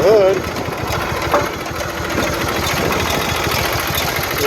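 A Kohler Magnum 20 hp engine on a Simplicity Sunstar lawn tractor runs nearby with a steady, rhythmic mid-pitched chug and rattle throughout, a voice briefly audible at the start.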